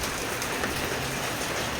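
Heavy rain pours steadily during a stormy outdoor session with a converted Taurus PCP air rifle, a dense, even hiss of drops on surfaces that stays loud and unbroken throughout.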